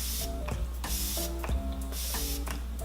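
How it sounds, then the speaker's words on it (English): A setting spray mister sprays onto a face in several quick bursts, close and hissy, each short spray separated by brief gaps, with faint plastic clicks of the pump. "So now that my face is basically complete, I'm gonna spray on some setting spray."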